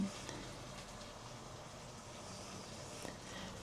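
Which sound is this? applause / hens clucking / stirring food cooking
stirring food cooking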